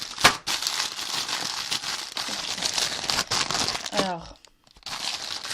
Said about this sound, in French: Donc je viens d'ouvrir le paquet